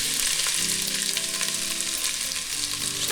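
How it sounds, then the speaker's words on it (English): Potatoes frying in hot oil in a pot for a vegetable soup, a steady dense sizzle and crackle filling the whole stretch with no talking. "Check to see if the oil is hot enough. Now we are ready to start cooking. Cook the potatoes first."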